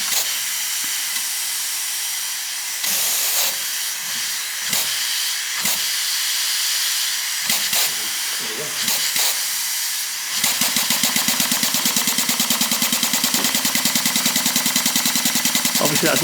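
A coal-fired Maxitrak 1-inch scale Burrell agricultural traction engine model hisses with steam, then settles into a rapid, even chuffing beat. A voice speaks faintly early on.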